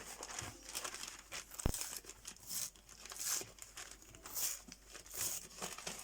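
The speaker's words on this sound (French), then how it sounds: "Donc on déchire tout autour du motif." A paper napkin being torn by hand around a printed motif, soft irregular crinkling and ripping bursts close up, with one sharp click partway through.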